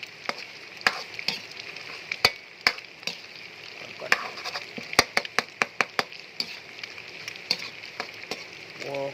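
Pork frying in a hot pan, with a steady sizzle throughout and repeated sharp clicks and knocks of a utensil stirring and scraping against the pan, close and fairly loud.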